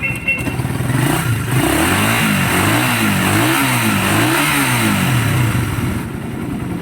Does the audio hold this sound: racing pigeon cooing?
no